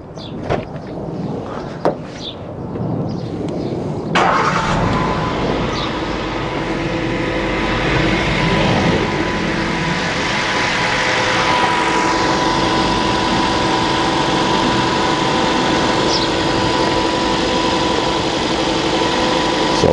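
A vehicle engine cranks and starts after a few seconds of quiet clicks, then settles into a steady, loud, close idle with an even hum that holds for the rest of the clip.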